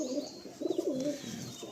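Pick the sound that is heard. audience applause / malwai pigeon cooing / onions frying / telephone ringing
malwai pigeon cooing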